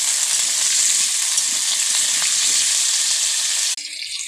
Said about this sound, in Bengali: এরপর ডুমো ডুমো করা আলুগুলো ছেড়ে দেব ডুমো ডুমো করা আলুগুলো দিচ্ছি